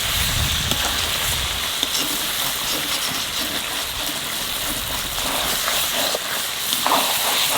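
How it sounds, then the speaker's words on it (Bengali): Mutton sizzling in a hot pan as it is sautéed, a steady loud crackling hiss with faint scraping, close and continuous. "ভালো করে মাংসটা কষায় নেবো"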